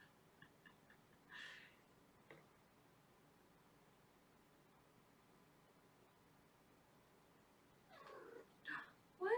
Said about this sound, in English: That's why he's feral kitty.